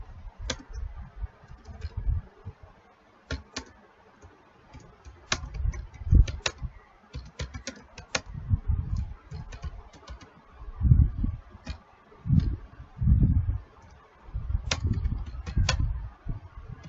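Typing on a computer keyboard while working in Microsoft Word, with irregular bursts of clicky keystrokes and short pauses between them, fairly close and clear with no talking.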